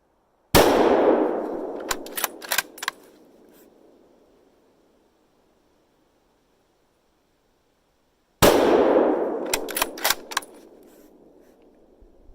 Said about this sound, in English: Go ahead and shoot this thing